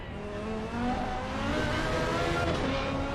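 Race car engine heard from the onboard view in a sim racing event at Paul Ricard, a loud, continuous high-revving drone with pitch climbing and dropping through gear changes.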